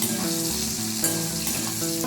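Okra frying in a pan with a sprinkle of poppy seeds and two slit green chilies, a steady, close sizzle running without pause and with no talk.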